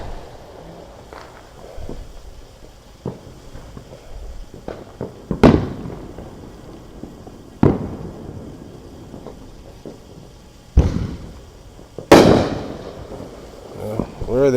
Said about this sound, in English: They're shooting off fireworks in our neighborhood.